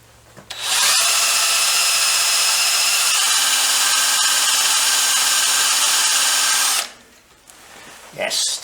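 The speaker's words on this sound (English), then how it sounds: "it's a tiny little drill. We're nearly through." A tiny drill bit bores steadily through metal on a BSA Enfield 350 trials motorcycle, a loud, continuous high whine running for about six seconds before stopping abruptly, followed by brief quieter handling noise.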